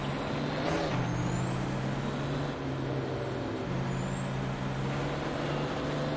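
Racing truck in a truck racing sim game roars with a steady droning engine and a sharp hiss of air brakes, loud and continuous with the engine tone shifting through corners.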